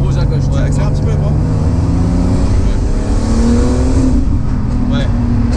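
A BMW 320i turbo accelerates on the road, its engine drone loud and steady with a gradually rising pitch as the car picks up speed.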